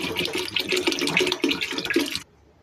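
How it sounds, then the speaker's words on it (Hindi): Water pours steadily into a pressure cooker pot of dal for about two seconds, splashing and gurgling close by, then stops abruptly. "3 गिलास हम इसमें पानी शामिल करेंगे।"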